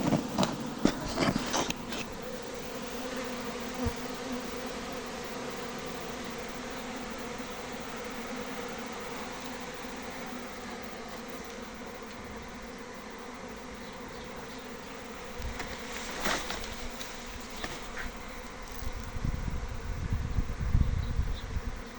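Honeybees swarm busily around a beehive entrance, a dense steady buzzing hum close by with some louder passing fly-bys, continuous throughout.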